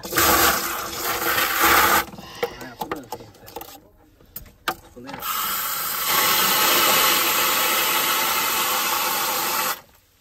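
Water gushes from a reopened village tap pipe during a rural courtyard water-supply repair, a loud rushing hiss that breaks into sputtering, gurgling bursts before flowing steadily again, then stopping abruptly.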